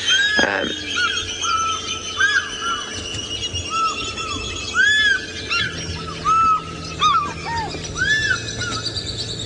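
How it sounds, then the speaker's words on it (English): Several African fish eagles call in the distance on a sunrise safari drive, with repeated ringing, yelping cries rising over a busy wildlife chorus and steady background hum. "There was the fish eagles calling."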